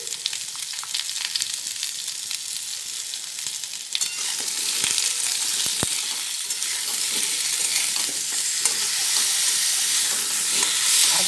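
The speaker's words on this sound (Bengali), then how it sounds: "এগুলো ভেজে নিচ্ছি এবার নুন দিচ্ছি" Potatoes and tomatoes fry in hot oil for a vegetarian pointed gourd and potato curry, giving a steady, close, bright sizzle with occasional stirring clicks throughout.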